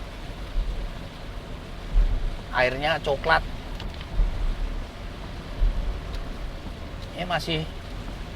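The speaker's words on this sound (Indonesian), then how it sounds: "hujan deras ini" Heavy rain falls during a drive on the Pantura road between Indramayu and Cirebon, a steady broadband wash with low rumbles, while someone talks over it in two short bursts.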